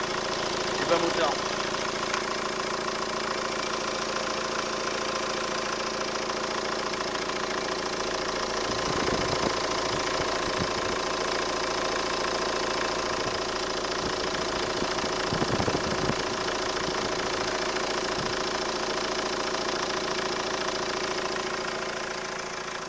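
A Renault Scenic dCi diesel engine (F9Q732) with crankcase overpressure idles steadily with a low, even knocking rumble for the whole stretch, with a few faint clanks in the middle.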